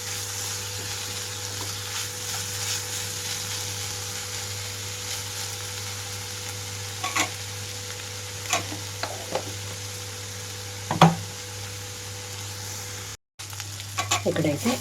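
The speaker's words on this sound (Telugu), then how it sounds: "మధ్య మధ్యలో కలుపుకుంటూ వేయించుకోవాలి" Steamed ivy gourd pieces fry in a pan with salt, a continuous close sizzle with a low hum behind it, broken by occasional scraping clicks of stirring.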